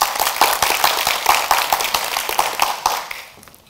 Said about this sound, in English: What I want is just this half of the audience to clap.